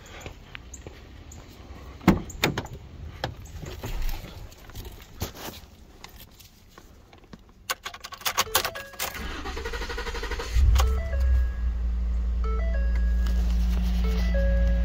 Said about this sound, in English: Now you can take your key and try to start your truck.